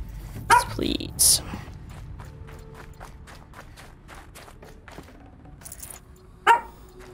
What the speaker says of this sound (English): My dog is still barking.